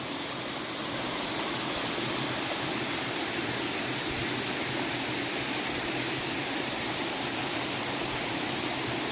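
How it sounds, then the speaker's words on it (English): A small creek flows along a rainforest hiking trail near Rio Celeste, a steady close rushing of water with no voices. "this is one of the little creeks that we were hearing"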